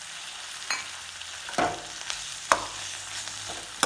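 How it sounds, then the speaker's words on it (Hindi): Tomatoes going into a pan of browned onions for a Chhattisgarhi egg curry, a low continuous sizzle punctuated by a few distinct scrapes and knocks of a stirring spoon, close up with no voices. "अब मैं डाल देबो संगवारी मन हमारे जो टमाटर लेके रखे रहे दिला"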